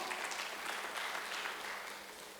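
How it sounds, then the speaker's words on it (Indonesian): A church congregation applauds during a live service, a steady wash of many hands clapping at once that holds evenly and fairly close for the whole stretch. "Tepuk tangan."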